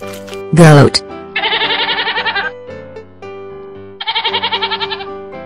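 A cartoon goat bleats in two loud, rapid, quavering bursts over light background music in a children's animal lesson, after a short springy boing sound.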